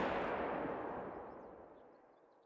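A single loud rifle shot fired at a deer in the hunting game theHunter: Call of the Wild booms out, then rolls away in a long echoing tail that fades over about two seconds.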